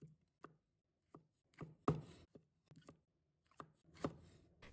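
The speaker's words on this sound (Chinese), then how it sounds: "然后用刀切去辣椒头" A knife chops the tops off green peppers on a cutting board in a quiet kitchen, making a series of close, sharp taps at an uneven rhythm, some landing in quick pairs.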